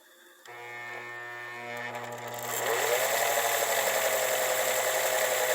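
The Husqvarna motor of a 1955 Viking Type 21 sewing machine starts up and runs, a steady whirring hum that climbs in pitch and grows louder after a couple of seconds, then holds at a fast, even whine.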